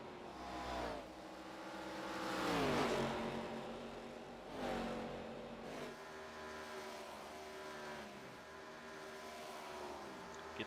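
ARCA race cars at Homestead-Miami Speedway, engines revving and climbing in pitch as they power off a corner, with several swelling passes and overlapping engine whine at moderate distance.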